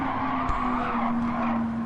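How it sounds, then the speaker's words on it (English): A car engine in Gran Turismo 7 drones loud and steady at high revs, joined by continuous tire squeal and skidding, with no talking. "I'm hearing the engine really loud and just kind of relaxing to it"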